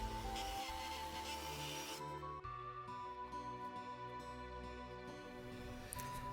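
Dremel rotary tool polishing the nose of a pocket knife blade, a loud continuous high-pitched motor whine with a rubbing grind that shifts in pitch partway through as the tool meets the steel.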